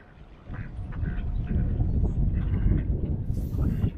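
A congregating flock of ducks quacks and squabbles at close range, a dense overlapping chatter of calls with some louder bursts.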